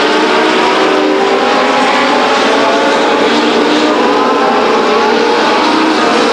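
Legends race cars circling Stockton 99 Speedway in a 1999 race, a loud, continuous roar of several engines blending together near the track, steady and unbroken, with no talk over it.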